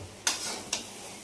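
Food being stirred in a kadhai of farali khichdi with potato, with two brief scraping strokes over a soft background sizzle.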